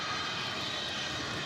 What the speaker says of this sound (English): cargo planes in action coming and going before we have to bug off later this morning.